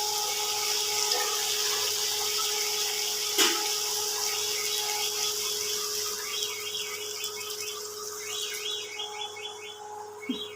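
Water running steadily into a pan of chicken bati chorchori, a lightly spiced Bengali chicken curry, a continuous close hiss with a clink near the start, birds chirping faintly in the background and no voices.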